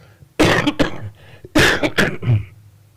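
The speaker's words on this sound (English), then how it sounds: "That's the remnants of my coughing last week." A man coughs twice, two harsh, close bursts each trailing into smaller rough hacks, lingering after an illness, in a quiet room with no talking.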